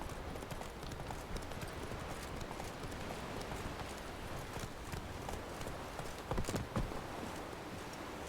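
Roach, a horse in The Witcher 3, trots with soft, steady hoofbeats under a continuous bed of outdoor ambience, with a few louder clops near the end.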